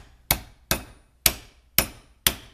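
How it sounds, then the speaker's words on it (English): Five sharp hammer strikes on the cut edge of a metal mason jar lid, spaced evenly about half a second apart, each a crisp close metallic knock with a short ring. "So you might have to hammer that just a few times to make sure it's flat"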